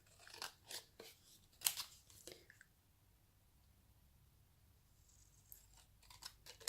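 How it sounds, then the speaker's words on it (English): Scissors snip through an upcycled Christmas card in a few quick, close cuts near the start, followed by a quiet pause and then more soft paper cuts at the end. "We'll just cut that out."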